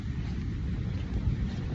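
Steady wind buffeting a microphone on the beach at Huntington Beach, California, a continuous low roar with no breaks and no voices.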